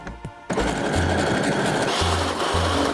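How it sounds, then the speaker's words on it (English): A Brother sewing machine runs an overcasting seam with a presser foot, starting after a brief handling noise and then buzzing steadily, loud and close, for the rest of the moment. "I will choose a seam for overcasting seam number 6 for my brother machine, and just make seam."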